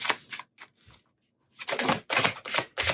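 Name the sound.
tarot cards being shuffled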